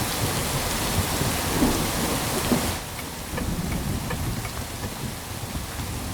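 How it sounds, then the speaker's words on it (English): Steady heavy rain pours down, a dense hiss of drops on surfaces with no voices, easing slightly partway through. "It's raining."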